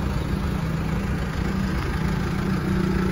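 A Kia Bongo III double-cab dropside truck with a J3 3.0 diesel engine idles steadily, a close, even low rumble with constant vibration and no speech.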